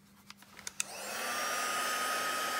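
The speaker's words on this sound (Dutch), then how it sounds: "Ik doe het eventjes met de föhn aanzetten. Dan is hij goed droog." A hair dryer switches on after a few light clicks and knocks, then blows with a steady, loud rushing whir while drying paint on a butterfly-themed canvas.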